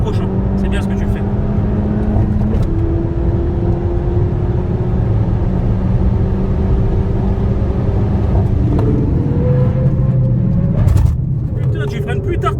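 A Peugeot 208 GTI drives flat out on a race circuit, with a loud, sustained engine drone rising and shifting in pitch through gear changes. A coaching voice talks over it.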